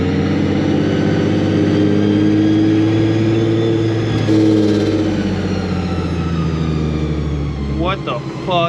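Supercharged Nissan 350Z with a Procharger setup, its engine droning steadily and loud with a rising whine, a brief throttle blip near the end, while people talk over it inside the car.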